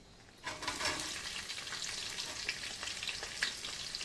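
Onions sauté in a pan for a soya chunk biryani, a steady bright sizzle that begins after a short quiet lead-in and holds close and even, with faint stirring crackles scattered through.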